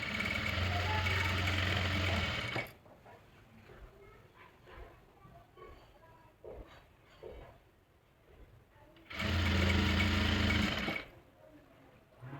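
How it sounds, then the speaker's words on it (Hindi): Sewing machine stitching a folded hem on women's trousers, two loud steady whirring runs at start and near the end, with someone talking quietly and handling fabric between them. "तो इस तरह से फोल्ड करते हुए हम इस सिलाई को कंप्लीट कर लेंगे।"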